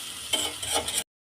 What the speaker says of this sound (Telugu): ఉల్లిపాయలు కొంచెం బ్రౌన్ కలర్లో వేగిన దాకా ఫ్రై చేసుకుంటే బాగుంటుంది.